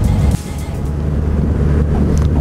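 Harley-Davidson motorcycles passing by on the road: a loud, rumbling low engine roar close to the microphone, mixed with wind buffeting, with a sharp change in level near the start.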